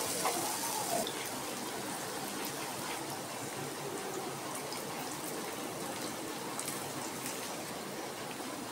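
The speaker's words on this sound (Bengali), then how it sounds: "বড়াগুলো ভেজে নেব" Cabbage fritters (badhakopir bora) frying gently in hot white oil over a very low flame, a steady close hiss and crackle of bubbling oil running evenly throughout with no talk.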